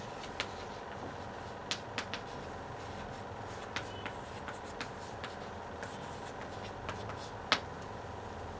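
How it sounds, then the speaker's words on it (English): A sentence handwritten on a board or page during an English grammar lesson, faint scratchy strokes and light taps in an irregular rhythm over steady room noise, with no talking. "See, I write here one sentence."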